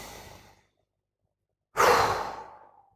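Deep, breathy exhalations during a guided meditation: a soft breath tails off, a pause of silence follows, then a loud, full out-breath falls away slowly, close and alone.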